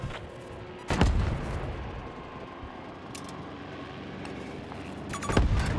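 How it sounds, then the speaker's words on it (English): A recoilless rocket fired in the Battlefield 2042 video game: two loud, booming blasts, one near the start and one near the end, with a sharp crack in between over a rumbling battlefield backdrop. "Oh, it's a motherfucking recoilless rocket."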